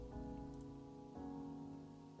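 Gentle rain ambience blends with soft, sustained Nier: Automata music from a relaxation playlist, quiet and steady, with one chord change partway through; no voices.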